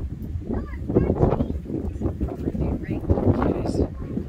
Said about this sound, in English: It's a little bit windy, but not a bad view